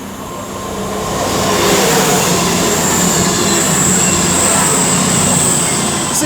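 Cross Country class 221 train passing at Sandwell & Dudley on the West Coast Main Line, a loud, close, steady roar of wheels and engine with a high thin squeal running throughout.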